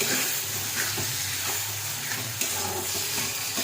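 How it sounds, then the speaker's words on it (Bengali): Gobindobhog rice sizzles in a pan with spices while being stirred for a fish-head murighonto dish: a steady, close frying hiss with soft scraping stir strokes throughout and no talking. "এটা আমরা 1 মিনিট পর্যন্ত ভালো করে মশলার সঙ্গে ভাতটাকে কষাবো।"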